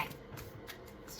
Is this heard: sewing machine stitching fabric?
no